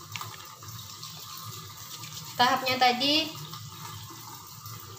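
Water from a tap runs steadily during hand washing, a soft continuous wash under a brief spoken remark.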